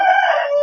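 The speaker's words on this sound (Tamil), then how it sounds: "வெடக்கோழி" A village rooster gives a single short crow, loud and close, its harmonic call sustained briefly before cutting off, with no voices over it.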